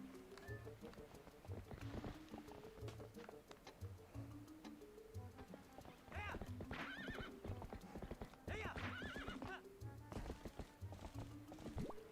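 In a video game, a horse's hooves clip-clop in a steady galloping rhythm, broken by loud, close neighs and whinnies over in-game music and ambience.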